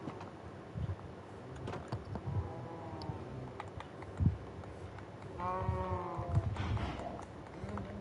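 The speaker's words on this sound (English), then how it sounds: "there's some more sheep" Minecraft sheep bleat in short, wavering calls, several in a row, set among soft game clicks and keyboard-like tapping at moderate volume.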